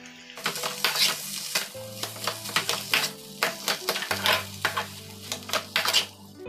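Tomatoes fry in a pan with black pepper and salt, sizzling softly while a utensil taps and scrapes against the pan in quick, irregular strokes close by.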